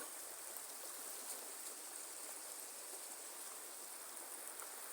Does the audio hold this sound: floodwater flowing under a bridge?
yes